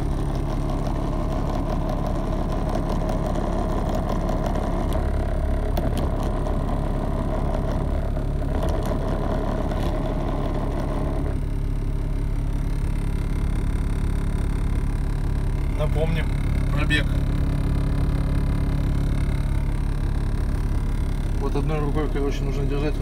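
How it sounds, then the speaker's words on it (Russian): A Ural truck engine idles with a steady, deep, close rumble throughout, while someone talks over it. "Это Урал на холостых."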